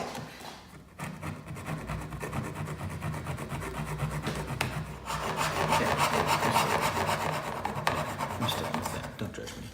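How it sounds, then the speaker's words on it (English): Steady back-and-forth rasping of a coping saw cutting straight lines in wood, close and continuous, the strokes growing slightly louder partway through. "now I'm going to try to cut these straight lines with a coping saw."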